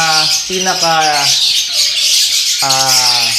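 African lovebirds of aqua and yellow-face mutations squawk in an aviary: a handful of sharp, harmonic calls in short bursts with a pause in the middle, close and loud over steady background hiss.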